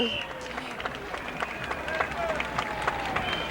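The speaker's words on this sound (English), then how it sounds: "The applause you hear is for a unicyclist who was skipping rope on a unicycle." Street crowd at the 1978 Apple Blossom Parade applauding a unicyclist skipping rope, scattered outdoor clapping and murmuring voices heard at a moderate distance, steady and fairly soft across the moment.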